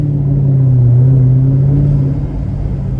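A Mercedes-Benz ML63 AMG engine holds a deep, throaty, bassy rumble, swelling slightly as it revs and pulls away, then easing back, loud and close with no talking.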